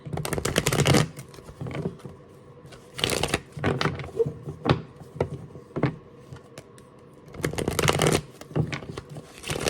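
Tarot cards shuffle in several quick riffling bursts, separated by quieter pauses with light tapping and handling.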